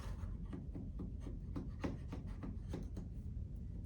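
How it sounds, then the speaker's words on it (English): Metal scraper rasping across a wet asbestos floor tile, a quick run of short, rough strokes in a steady rhythm, close and fairly quiet, with no voices. "we're going to use that scraper, and we're going to scrape"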